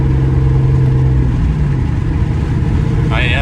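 A New Edge Ford Mustang GT with a catless X-pipe exhaust cruises in fourth gear, its engine a steady, loud low drone inside the cabin while the driver talks over it.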